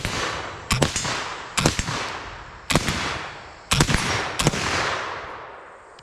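Flintlock muzzleloading mountain rifle shots ring out in the woods, several sharp cracks spaced about a second apart, each trailing into a long rolling echo across the trees, with no talking.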